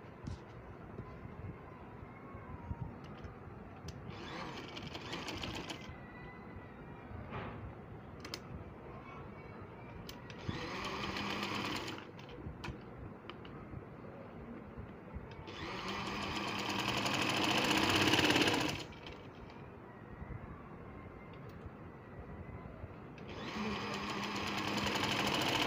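A sewing machine stitches a sleeve cuff in bursts of steady whirring, several separate runs with pauses between them and a longer, louder run near the end, heard close up over a quiet room.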